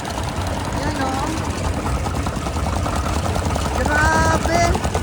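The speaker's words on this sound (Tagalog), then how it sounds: "1920s na mga makina guys" Old 1920s engines run on a farm in the Netherlands, a steady, low, rumbling hum that grows slightly louder toward the end while people talk over it.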